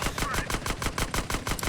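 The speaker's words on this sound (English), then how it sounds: "I just pump a load of micro SMG ammo to the cars." Rapid micro SMG gunfire in a video game, a steady stream of shots at about eight rounds per second, loud and continuous throughout.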